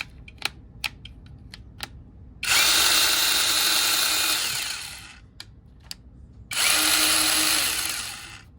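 A Bauer 20-volt brushless cordless pruning saw whirs up to a high buzzing whine, runs for a few seconds, stops, then starts again, with clicks in between.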